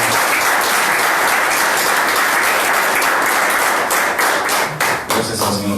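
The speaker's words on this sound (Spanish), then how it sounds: "Un aplauso vamos a todas las mamás." Loud, full applause from a large church congregation honoring mothers, a thick wash of many hands clapping that starts to thin near the end.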